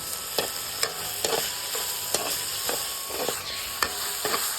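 Potato vegetable curry stirred in a hot pan, a steady sizzle with a regular series of spoon scrapes and knocks against the metal, close up and without talk.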